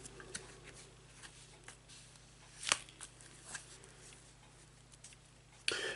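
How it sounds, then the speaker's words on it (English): A tarot card deck being shuffled and cut, giving soft riffling and patting sounds with a couple of sharper snaps, close and quiet with no talking. "And we cut the deck"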